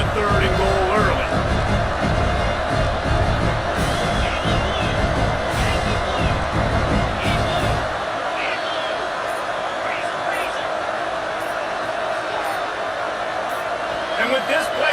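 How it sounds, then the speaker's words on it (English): Stadium crowd at a TCU at Miami college football game, roaring loudly for several seconds and then easing to a lower din, under commentators' voices. "with this place rocking, the crowd forces a false start"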